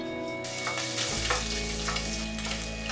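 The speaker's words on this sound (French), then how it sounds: "Faire revenir la viande pendant 3 à 4 minutes" Ground meat fries in oil in a sauté pan over medium heat, a steady close sizzle with stirring scrapes, under a low continuous hum, no voices.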